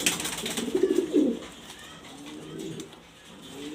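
A grizzle Afshan Sundori pigeon coos softly up close, a couple of low throaty rolls, then quieter murmuring against faint background noise.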